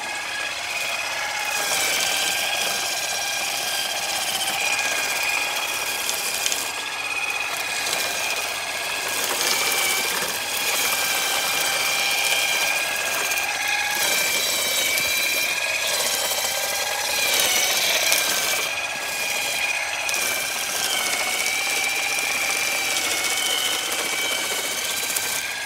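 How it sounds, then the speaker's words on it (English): Powered vibrating olive harvesting rake shaking through olive tree branches, making a continuous loud buzzing drone with rattling and rustling of leaves and fruit, steady throughout and close by. "I start to engage the rake with the olive branches, it doesn't damage the branch of the olive trees"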